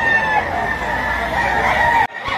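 A rooster crows loudly and close at a chicken auction market in Lipa, one sustained crow amid other fowl, with a brief break near the end.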